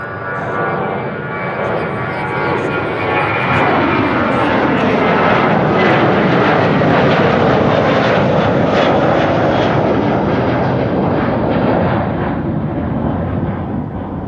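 A US Navy Gulfstream jet roars on runway 22 at Amsterdam Schiphol Airport, its engines a loud, sustained rumble that swells toward the middle and slowly fades, with no talk over it.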